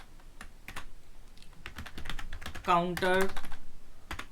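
Code being typed on a computer keyboard during a React programming lesson, with steady light clicking and scattered keystrokes close by while someone speaks Hindi over them.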